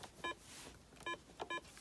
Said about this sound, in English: press loud, soft to make the beeping softer